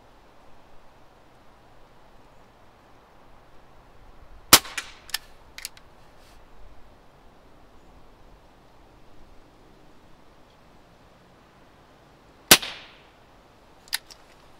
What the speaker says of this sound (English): I know I'm shooting a pistol wrong.